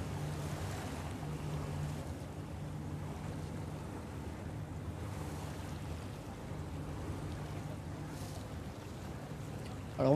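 A boat crosses the Garonne river over waves, a steady low engine drone with the wash of water and wind throughout, a brief voice breaking in at the very end.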